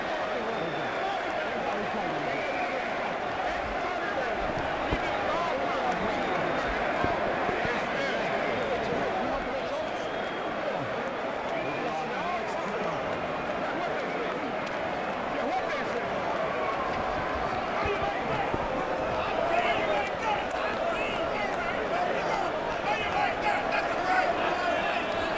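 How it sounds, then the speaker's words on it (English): Boxing arena crowd buzzing steadily after the Andrew Golota vs Chris Byrd bout, a dense continuous murmur of many voices at moderate distance under a commentator's talk. "The crowd is still just buzzing."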